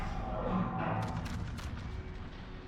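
Main battery guns of a warship fire in World of Warships, a few muffled booms and crackling reports over a steady low rumble, fairly faint.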